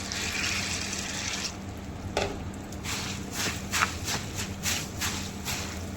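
Water is poured over puffed rice to soak it for pakoras, a faint continuous splash and trickle close by with a few soft shuffles and clinks.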